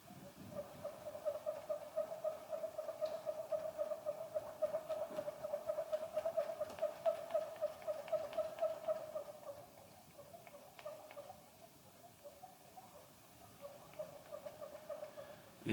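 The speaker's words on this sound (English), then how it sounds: "this one's a Poi Awhiowhio, and it's made of hue, and it sounds like this." A Māori poi awhiowhio, a whirling instrument made from a hue gourd, spins with a steady breathy whirr and a sustained tone for about nine seconds, then fades into softer, irregular swishing, faint and unaccompanied.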